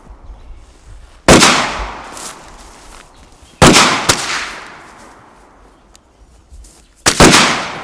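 Ruger 10/22 rifle gunfire during a shooting drill: three loud, sharp shots spaced a couple of seconds apart, each trailing into a long echoing decay, with fainter clicks between them.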